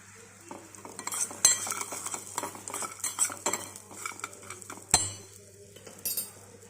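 Salted dried corn kernels stirred in a pan over a low flame, with repeated scraping and clinking of a metal spoon against the pan over a faint, steady sizzle.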